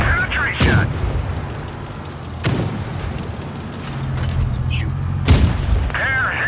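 World of Tanks tank cannon shots boom three times at a steady spacing, each a loud, sharp broadband blast with a rumbling tail over a constant low engine drone.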